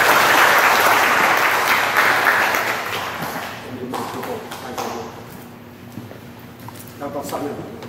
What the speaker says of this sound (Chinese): 请大家鼓掌欢迎王主任